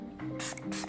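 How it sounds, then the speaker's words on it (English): Milani makeup setting spray gives two quick, close hissing spritzes, one right after the other. "I got this new setting spray a few days ago."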